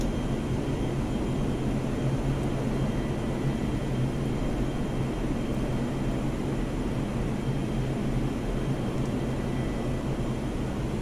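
A Chengdu J-10A fighter jet engine throttled back to idle in the flight simulator DCS World gives a steady, even, low rumbling whine that holds constant for the whole stretch, with no voices over it.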